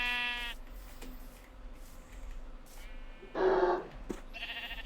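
A Minecraft sheep gives a few short bleats in a blocky video game world, one clear bleat standing out near the middle against a steady low background hum.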